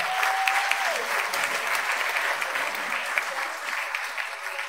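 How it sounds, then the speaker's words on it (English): An audience applauds the women and girls who helped set up for a Jewish community gathering, a dense, steady clapping of a sizeable crowd that holds its level throughout, with a faint tone briefly at the start. "Let's give them a rousing round of applause."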